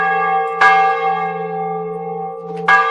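A church bell swung in full peal, its clapper striking the metal twice about two seconds apart, each loud clang followed by a long ringing hum that decays slowly between strikes, heard alone without voices.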